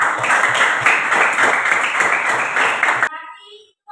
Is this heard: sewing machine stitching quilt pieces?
no